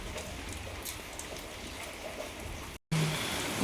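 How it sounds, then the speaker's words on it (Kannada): Steady rain falling outdoors at a village home, a dense continuous patter that stays even and fairly loud throughout, broken only by a brief dropout near the end. "ಮಳೆ ನೋಡ್ರಿ ಇಲ್ಲಿ ಇನ್ನೂ ಬರಾಕೈತ್ರಿ ಮಳೆ ರೀ."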